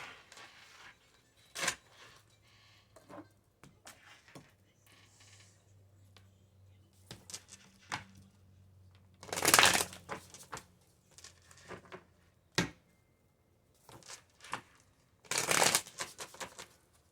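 Tarot cards being shuffled by hand for a weekly reading, soft riffles and papery slaps in irregular bursts with two louder flurries, close and quiet with faint background hum.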